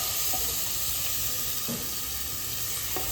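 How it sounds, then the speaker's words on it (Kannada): Green chillies fry in a pan over low heat until light brown, for a paneer biryani. A steady, close sizzle and hiss runs throughout, with a few faint clicks and no voices. "ಇಷ್ಟು ಹಾಕಿ ಸ್ವಲ್ಪ ಕಂದು ಬಣ್ಣಕ್ಕೆ ತಿರುಗೋವರೆಗೂ ಫ್ರೈ ಮಾಡ್ಕೊಳ್ಳೋಣ"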